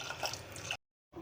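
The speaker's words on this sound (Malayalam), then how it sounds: "ഇനി നമുക്ക് വെള്ളം ഒഴിക്കാം" Water poured into a pot of dal curry for a Kerala Onam sadya parippu, a steady close splashing pour that cuts off abruptly, followed by faint liquid sounds.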